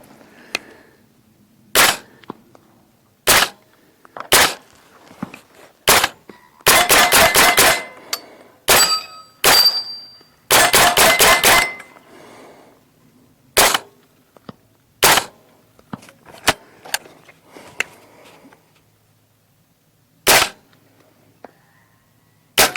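Loud, sharp gunshots from a custom 8.3 inch 300 Blackout AR firing 220 grain subsonic rounds, single shots and fast strings spread irregularly across the span, with quiet gaps between bursts.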